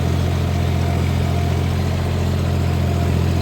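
A John Deere tractor engine, used for field work such as sugarcane ploughing, runs at a steady idle with a continuous low, even drone that stays loud and close throughout, with no voices.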